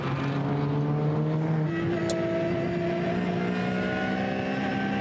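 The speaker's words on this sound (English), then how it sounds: "the Menzel car now thundering its way down the hill towards Ad Van Bogen" A race car at the Nürburgring thunders down a hill during an endurance race, its engine roaring loud and steady throughout with gear changes shifting the pitch.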